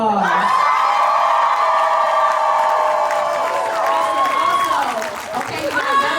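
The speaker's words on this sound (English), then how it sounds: "Let's have another round of applause." A convention crowd at a lip sync competition applauds and cheers the winner, with sustained loud clapping and whoops filling the space and a swell of shouting near the end.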